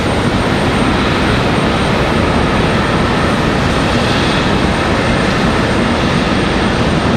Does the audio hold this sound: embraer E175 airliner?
yes